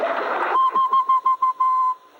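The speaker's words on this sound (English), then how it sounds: "you want to hear my potato whistle?" A man gives a potato whistle: a steady high whistled tone that breaks into about seven short rhythmic pulses after a burst of crowd noise, then holds and fades out.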